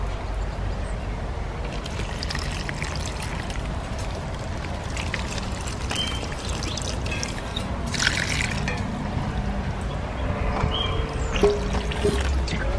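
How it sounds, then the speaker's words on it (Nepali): Water poured onto newly planted outdoor flower plants, a steady close trickle and splash running throughout with slightly louder bursts near the end. "त्यही भएर यहाँ पानी हाल्दै हो."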